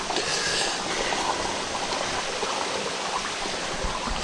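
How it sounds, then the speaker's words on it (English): A forest stream with rocks and leaves, water rushing and splashing steadily over stones in a continuous close, fairly loud wash with no pauses. "What a beautiful stream. With rocks and leaves"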